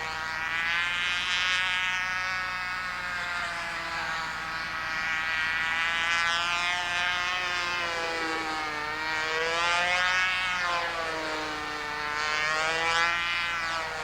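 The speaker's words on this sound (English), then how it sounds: "That is a pretty good flying airplane." A model airplane with an HP-40 engine flying overhead, its high, buzzing two-stroke whine rising and falling steadily in pitch as it passes back and forth at a distance, no talk.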